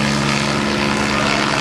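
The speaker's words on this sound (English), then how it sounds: "You can see our 47 coming from right to left." A Bell 47 helicopter flies past at a rotorcraft demonstration event, its engine and rotor drone loud, close and steady throughout with no talk.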